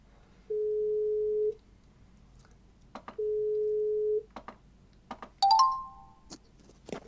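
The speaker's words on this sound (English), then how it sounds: "let's just phone this guy" A phone call being placed gives two long steady dialing tones separated by a pause, followed by short clicks and a rising electronic connection beep, heard clearly with no talk.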